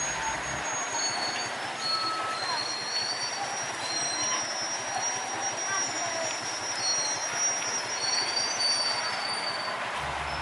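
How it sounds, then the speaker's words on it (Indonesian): A sugarcane lorry train at the PG Kedawung sugar mill rolls very slowly along rails at night, with a steady rumble and high wheel squeals running throughout. "kereta lori berjalan sangat pelan teman-teman ya"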